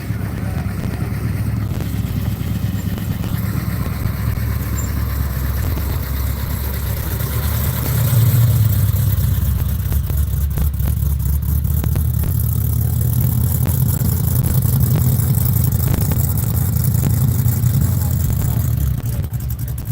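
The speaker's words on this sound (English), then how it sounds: "Oh, we got another car leave." Classic car engine at a Goodguys car show, idling with a loud, steady rumble close by, then a stronger, louder stretch of revving as it pulls away, with faint voices in the background.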